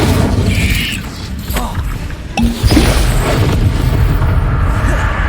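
Incendio fire spell cast in the video game Hogwarts Legacy, heard as a booming burst with mechanical creaks and crashing effects over continuous loud game sound.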